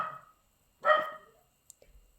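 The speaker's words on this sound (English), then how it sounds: "My dogs." A pet dog gives a single sharp bark, close by and fairly loud, followed by a few faint clicks and a soft low rumble.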